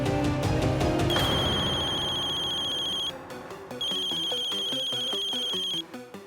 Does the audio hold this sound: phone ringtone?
yes